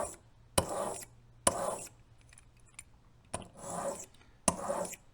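Serrated Magnus broadhead drawn along a sharpener in one direction only: four separate raspy pulling strokes, each a short gritty scrape followed by a pause, close and fairly quiet, with no talking.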